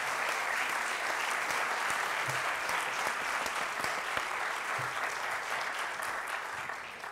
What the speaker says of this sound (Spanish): Otro aplauso, muy fuerte